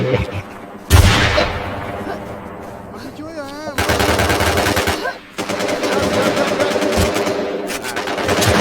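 Rapid automatic gunfire bursts out in a PvP match of the video game Infestation, loud, repeated volleys following a sharp opening shot, with a person talking over parts of it.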